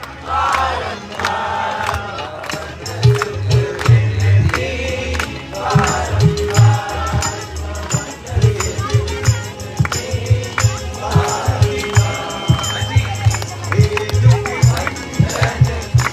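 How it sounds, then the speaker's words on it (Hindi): An audience claps steadily along to a devotional kirtan on a festive night, the rhythmic beat blending with loud singing voices, harmonium-like music and crowd noise in a dense, energetic mix. "तालियों का साथ"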